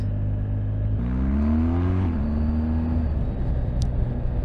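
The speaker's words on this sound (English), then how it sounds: "That's the bit I like about these boxer engines. The way it just yanks you out of slow speed bends." BMW R1250GS boxer-engine motorcycle accelerating out of a slow bend, its engine note rising steadily in pitch over a couple of seconds and then settling into a steady hum with wind rumble, heard from the rider's position.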